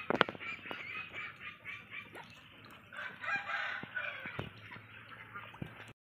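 Soft, chattering peeps and cheeps of ducklings playing in water, with scattered splashes and clicks, fairly close and continuous for several seconds.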